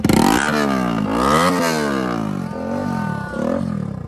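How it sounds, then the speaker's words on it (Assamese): A loud modified motorcycle engine revs up and down close by, its raspy roar climbing and falling in pitch through several throttle bursts. "বাইক এখন মানে মডিফাই কৰি আনিছে চাব কেনেকে বাজিছে"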